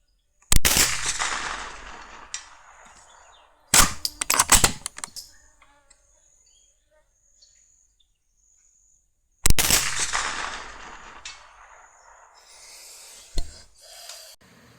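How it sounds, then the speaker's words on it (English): A .22 Long Rifle fires at a steel silhouette target 300 yards away outdoors. Four sharp, separate shots ring out with long quiet gaps between them, and any distant impacts are very faint. "now let's bang this steel silhouette down here"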